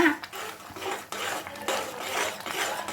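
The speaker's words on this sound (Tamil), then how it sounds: "இது போல் ரவையை சேர்த்து கிளறி விட்டுக்கோங்க" Semolina being stirred into boiling vegetables in a pan for rava kichadi, a spoon scraping and clinking against the metal in quick repeated strokes over a soft bubbling sizzle.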